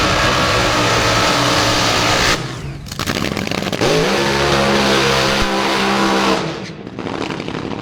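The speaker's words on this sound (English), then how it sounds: "I drive the Champion Speed Shop Top Fuel Dragster." A Top Fuel dragster roars loudly through first-round eliminations at the 60th March Meet, a harsh, thunderous engine blast that rises and revs in sweeping harmonic surges before fading into distant crowd noise.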